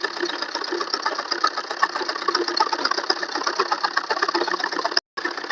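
A sewing machine stitching a salwar hem, a fast and even mechanical rattle that runs continuously and loud, then cuts out briefly near the end before resuming.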